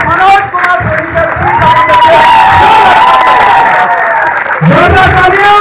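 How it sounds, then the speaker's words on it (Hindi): A large audience cheers and shouts with sustained clapping throughout, a loud dense crowd roar welcoming a leader onto the stage at a seminar event. "जोरदार तालियों से वेलकम करते हैं।"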